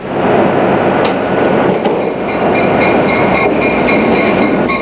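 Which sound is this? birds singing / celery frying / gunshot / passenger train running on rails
passenger train running on rails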